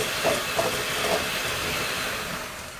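Electric mixer running on low speed as it blends sugar in for a no-bake cheesecake, a steady whirring hum with a hissy, airy texture and a few faint bumps early on.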